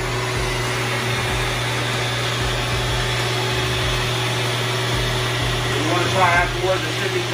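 An industrial carpet cleaning machine runs with a steady motor whine and hum, constant and close, under a person talking.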